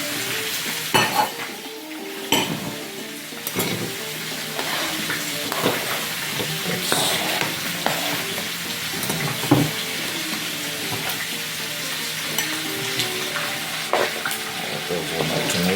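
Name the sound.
pork frying in a pan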